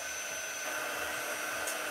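A heat quick-dry tool, reaching about 150 degrees, blows steadily with a constant airy whoosh and faint whine, close by and uninterrupted.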